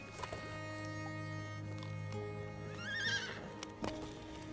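A horse neighs in the MTG Arena card game, a clear whinny rising over a steady musical game backdrop, with a short clip-clop-like patter at the end.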